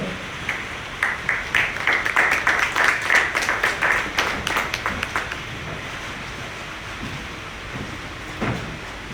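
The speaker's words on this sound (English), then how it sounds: "Let's give a round of applause" Audience applause at an electric scooter launch in Goa: a burst of distinct claps that builds, then thins into scattered claps, under a steady breezy outdoor background.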